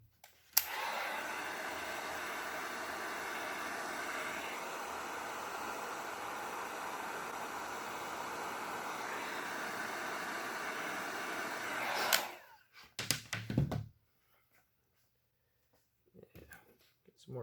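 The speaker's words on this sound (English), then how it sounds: "Heat shrink over." A heat gun blows a steady, close, loud rush of hot air for about twelve seconds, shrinking heat shrink tubing over crimped wiring on an SW20 MR2 chassis harness, then cuts off, followed by a few faint handling noises.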